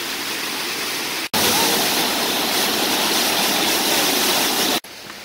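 A river rushes past a riverside walkway in Ontario, Canada, making a loud, continuous wash of flowing water, close by and steady, broken only by two brief cuts.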